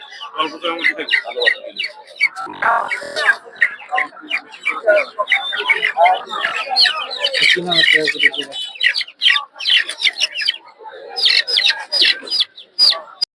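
Brahma chickens at a busy Bangladeshi poultry market in Narsingdi, clucking and chirping continuously and close by, with market voices talking throughout.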